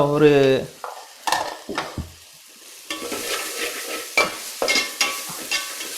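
Tomato and onion fry and sizzle in a pan for a fish curry, with a spoon stirring and scraping in repeated close strokes over a steady low sizzle.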